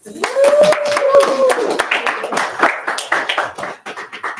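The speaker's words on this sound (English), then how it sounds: "Round of applause." Hands clap for a young graduate at the 26th annual graduation ceremony of an East Indian music academy. The clapping is uneven and moderately close, with voices talking over it.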